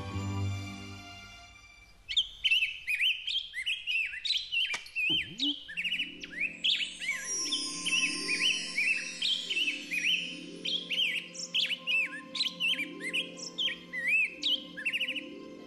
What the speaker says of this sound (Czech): kde je můj pták, který tak krásně zpívá?